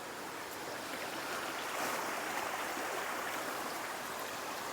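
Low water in a shallow Konkan river streams past in a constant close rush that swells slightly midway, alone without talk.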